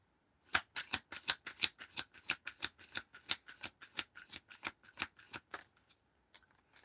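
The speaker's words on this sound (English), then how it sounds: "Okay, shuffle." Tarot cards are shuffled for a reading in a quick run of about thirty crisp riffling slaps. The slaps are close and steady, then stop, and a few faint taps follow.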